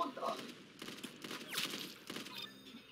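A war-style gun fires in the video game Arsenal, with several quick shots in bursts amid a cluttered game mix while a voice talks over it.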